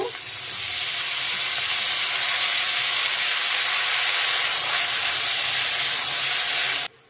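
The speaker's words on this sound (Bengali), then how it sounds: "কোয়াশ আলু বেগুনের তরকারিটা বসিয়ে দেব" A potato and eggplant curry cooks in a pan, giving a loud, even steamy hiss and sizzle that holds steady for several seconds and then stops abruptly, with no talking.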